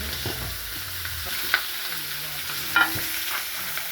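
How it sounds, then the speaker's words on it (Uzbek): Lamb meat lightly frying and being stirred in a pan, a soft steady sizzle broken by a few sharp scraping clinks of the utensil, close and alone without talk. "O'shaning uchun yengil qovurib olyapti."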